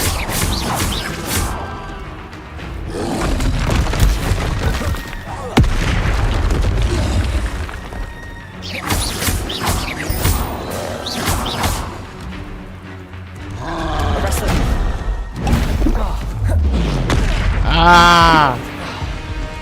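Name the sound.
Incendio and Confringo spell blasts in video game Hogwarts Legacy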